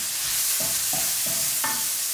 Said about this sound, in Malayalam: ഇതിലേക്ക് നമുക്ക് ഒരു ലേശം ഇഞ്ചി അരിഞ്ഞത്, 1 അല്ലി വെളുത്തുള്ളി എടുത്തിട്ട് കൊത്തി അരിഞ്ഞത്, 1 പച്ചമുളക് ചെറുതായിട്ട് അരിഞ്ഞത്.